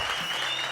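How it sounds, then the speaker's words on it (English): Audience applause for a guest in an interview, a brief, dense burst of clapping heard only for an instant, steady and loud with no gaps. "another round of applause just for getting to this particular point"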